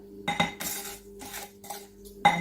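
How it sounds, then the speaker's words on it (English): A spatula scrapes around the bottom and sides of a bowl of fruit cake batter, making several short scraping and clinking strokes, close up with no talk. "So I'm going to scrape in the bottom and the sides and ensure everything"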